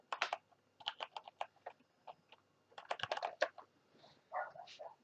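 Typing on a computer keyboard, a run of quick close key clicks in bursts with short pauses, no talking over it.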